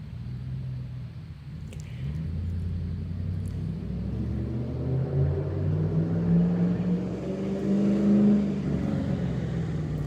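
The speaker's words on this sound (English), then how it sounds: "It's a pickup truck" A pickup truck's engine rumbles low and steady, building slightly as if approaching or accelerating, heard from some distance with no talking.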